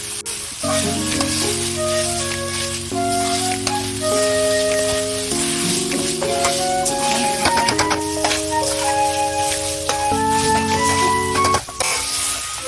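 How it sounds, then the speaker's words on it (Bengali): Sabudana pulao fries in a pan over low gas with a continuous sizzle that runs underneath loud, melodic background music for the whole stretch. "একটু গ্যাসটাকে একটু কম করে এটাকে একটুখানি ভাজা ভাজা করে নেব ভালোভাবে"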